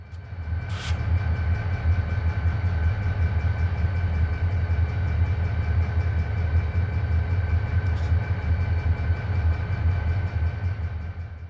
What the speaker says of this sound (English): another westbound train is ready to head up grade